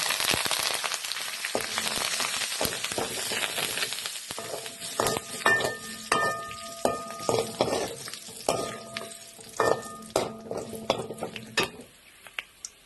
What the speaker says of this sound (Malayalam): ഉണ്ടോ നമ്മുടെ വെളുത്തുള്ളി പച്ചമുളക് എല്ലാം നന്നായിട്ട് മൂത്തിട്ടുണ്ട്. കടുക് ഇനി കുറച്ച് കറിവേപ്പില ഇട്ടു.